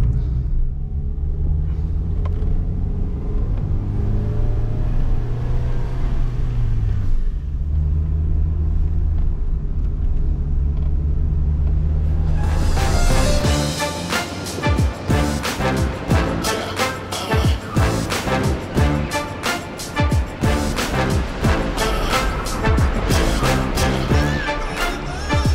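A car driving on a road in the Seychelles gives a steady low rumble for about half the stretch, then a dense, louder run of sound takes over, with no voices.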